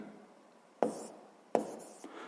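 Pen strokes on paper as physics measurement values are written down by hand, two short scratchy bursts and a faint third, close and quiet with no talking.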